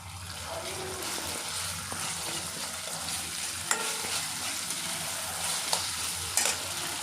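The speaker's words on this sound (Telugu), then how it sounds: "కొంచెం బాగా ఫ్రై అవనిద్దామండి." Gongura pulihora mixture frying and being stirred in a pan, a steady close sizzle with occasional scraping clicks of the spoon, no talking over it.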